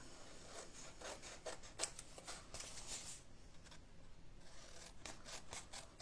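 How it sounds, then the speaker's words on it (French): Scissors snip paper at the corners of a handmade accordion album, making a run of quiet, crisp cuts and rustles in short irregular bursts against a faint background. "Donc, on coupe nos 4 coins."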